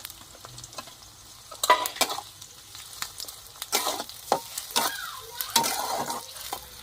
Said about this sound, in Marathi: तेल पण बघा किती टाकलंय. टोमॅटो टाकून घेते आता.